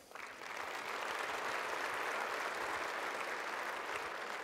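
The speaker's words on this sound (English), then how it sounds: "Round of applause for Mr." An audience at a formal space technology awards dinner breaks into applause, rising quickly into a sustained, even wash of clapping that continues for several seconds without voices on top.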